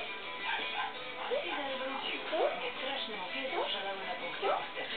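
A dog yips and whimpers in short high-pitched bursts, several cries rising and falling over a few seconds, close by.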